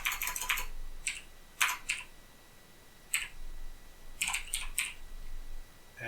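Bursts of computer keyboard typing come in short clusters separated by pauses, close and clear against quiet room tone, with no voices present.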